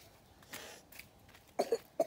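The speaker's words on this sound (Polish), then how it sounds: "Zamykaj buzię, jak kaszlesz." A child coughs outdoors during a forest outing, with a few short, sharp bursts clustered near the end, moderately close and otherwise quiet.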